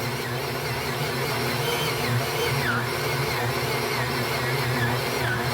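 An electric mixer kneading chocolate-glazed donut dough, a steady loud motor whir with a low rhythmic churning underneath.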